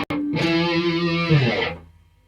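Distorted electric guitar sounds a short figure in E Phrygian dominant, a sustained heavy-toned note with effects ringing out, then fading, with no talk.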